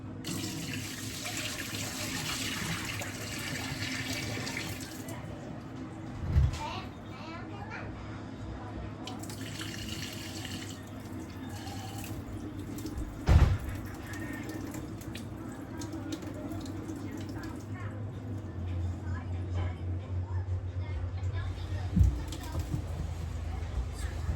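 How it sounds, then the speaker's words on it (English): Rice being washed in a sink under running tap water, a steady close stream with occasional clunks and rattles, while someone talks throughout. "Rice is weird to wash."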